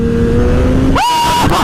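A loud, close motor drones steadily, then its pitch sweeps sharply upward as the throttle is cranked and holds a high whine before dropping off, all within under two seconds.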